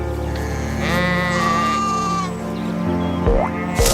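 A cartoon sheep bleats in a long, wavering, nasal cry that rises and holds for a couple of seconds, then a shorter bleat follows near the end, close and fairly loud.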